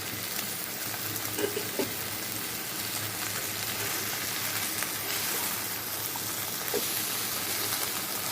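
Drumstick vegetable, potato and lentil bori sautéing in a pan, giving a steady, close sizzle and crackle that runs evenly throughout with faint stirring scrapes and no talk.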